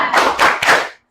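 A group of children clap a rhythmic spirit clap as an ice-breaking game at the end of a class session, three bursts of clapping in a steady pattern, close and fairly loud, then silence.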